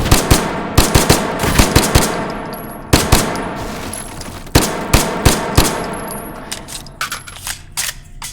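Gunfire in the VR shooter H3VR, heard as loud, close shots in quick clusters, some rapid and some single, with metallic clinks and ringing tails between them.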